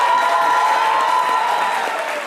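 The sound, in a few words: audience applause on radio show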